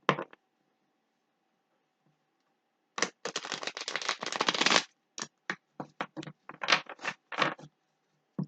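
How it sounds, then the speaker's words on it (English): A deck of tarot cards is shuffled close by in a quiet room: a single burst of shuffling, a long dense riffle, then a run of short crisp shuffling bursts. "I just like to shuffle once I begin"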